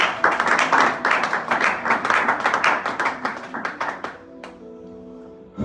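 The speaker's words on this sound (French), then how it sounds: "Acclamons la parole." A church congregation claps together in a fast, steady rhythm to acclaim the word. The clapping is loud and close and fades out near the end, giving way to soft tones.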